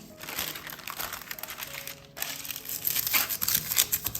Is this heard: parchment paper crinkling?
yes